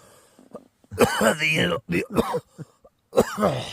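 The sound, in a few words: cough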